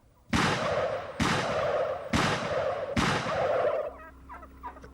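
Four loud, sudden blasts ring out at roughly even intervals, each decaying slowly, followed by faint birdlike calls as the echoes fade.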